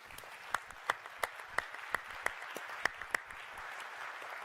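Audience at a co-op AGM meeting gives a light round of applause, a thin spread of clapping with a few sharper individual claps standing out, fairly distant and quiet.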